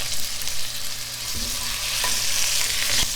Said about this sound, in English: Get these necks browned off.